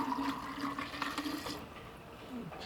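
Water is poured into a home-built high-capacity rock tumbler full of stones, a soft continuous splashing and gurgling flow, close but fairly quiet, with no talking.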